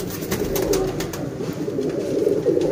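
A large flock of 82 paired and flying pigeons coos loudly and continuously up close, a dense throbbing chorus with light flutters and scratches mixed in.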